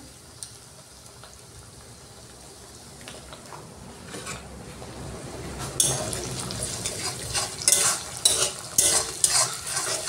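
Spice masala with packaged tomato sauce is sautéed in a pan while meat is cooked. It starts as a quiet low hiss and builds into louder close stirring and sizzling, with scraping bursts in the second half and no talk.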